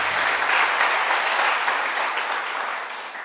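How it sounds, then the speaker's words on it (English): Audience at a high school debate competition applauding a team, a dense, even wash of clapping that slowly tapers off. "Give them a round of applause"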